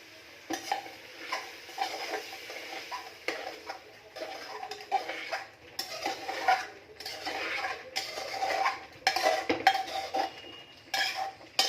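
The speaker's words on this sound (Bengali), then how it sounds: "আমি লাউটাকে লাড়িয়ে নিই" Bottle gourd is stirred in a cooking pot with a utensil, giving repeated scraping and clinking strokes against the metal in irregular bursts with brief pauses, fairly close and quiet, with no voices.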